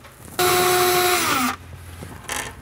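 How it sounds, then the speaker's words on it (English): A power drill runs in one loud, close burst of a bit over a second as it drills into a cabinet, its pitch dropping as it slows, followed by a faint short rattle. "from here you can drill in place."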